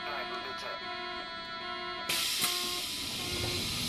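Subway train doors closing in the video game Subway Sim 2: a tonal electronic chime gives way to a sudden loud pneumatic hiss as the doors shut, with a brief thud, all heard close up.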